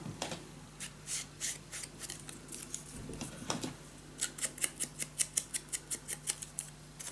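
Paper edges on a lace mini album are smoothed along a diagonal cut. Soft, close rubbing strokes repeat steadily and quicken into a regular series of scraping passes near the end.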